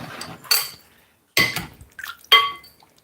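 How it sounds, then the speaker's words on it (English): Dishes and cutlery being washed up in a home kitchen during chicken cooking: several separate clattering clinks of plates and utensils knocked together, close and fairly loud, with quiet pauses between bursts. "Need to finish, then I do some washing up."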